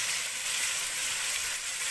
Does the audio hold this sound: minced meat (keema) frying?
yes